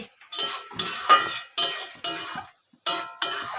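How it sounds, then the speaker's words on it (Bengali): Pan cooking of chorchori, a potato and taro curry, with a utensil stirring and scraping in quick rhythmic bursts of clatter, close and fairly loud, with short pauses between strokes and no talk. "এই যে আরো তরকারি বানাচ্ছে এটা হচ্ছে চচ্চড়ি"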